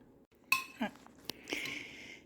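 Slow cooker pizza pasta casserole being served with utensils, a few distinct clinks and scrapes against the dish followed by a softer sustained scraping, close and moderately quiet.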